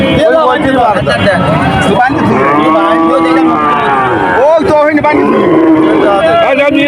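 A pregnant cow at the Shahpur cattle market moos in long, loud, drawn-out calls close by, with several lows in a row, while people talk and the market hubbub runs underneath.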